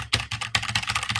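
Fast, crisp clatter of keys being typed on a new computer keyboard, close and steady, with no voice over it.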